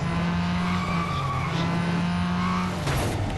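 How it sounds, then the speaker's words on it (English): Tires skid and squeal on a Ford GT at Le Mans in the Real Racing 3 racing game, a steady engine drone with a sustained screeching slide running throughout. "And evidently that means a lot of skidding"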